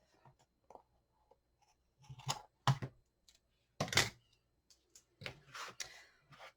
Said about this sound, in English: let me trim this piece off